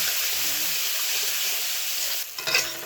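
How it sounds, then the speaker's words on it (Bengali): Ground cumin, coriander, turmeric and chili powder sizzling loudly with a splash of water in a hot pan, a dense steady hiss that sputters and stirs near the end. "জিরে গুঁড়ো আর ধনে গুঁড়ো একসাথে নিয়ে নিয়েছি, দিয়ে দেবো। হলুদ গুঁড়ো দেবো, দেবো লঙ্কার গুঁড়ো, সামান্য একটু জল দেবো।"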